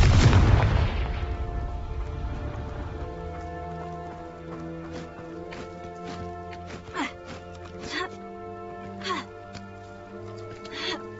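A heavy magical explosion from the Confringo spell in Hogwarts Legacy booms loudly at the start, then decays into game music with light clattering effects.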